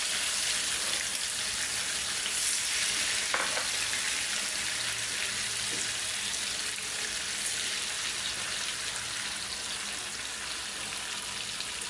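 Chicken pieces frying in a pan, a steady, loud sizzle that runs throughout with faint clinks of stirring.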